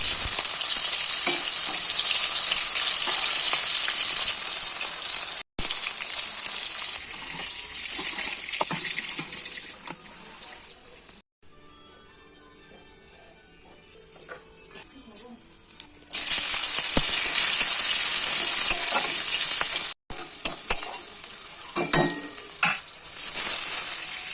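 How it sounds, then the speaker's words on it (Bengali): Spicy hilsa fish curry cooking in a pan, a loud continuous hiss and bubble close by that drops to a quiet low stretch midway before surging back, with a couple of abrupt cuts. "মাছের ঝাল তুলে দিয়েছি আর মাছের ঝাল ফুটে উঠেছে"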